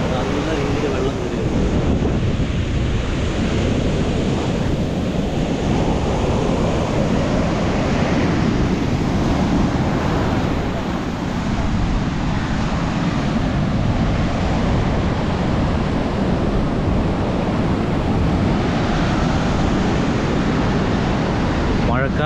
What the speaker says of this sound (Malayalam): ഇത് കണ്ടോ, തിരമാലയൊക്കെ ഒരു മുകളിൽ വരെ കയറി വന്നിട്ടുണ്ട്.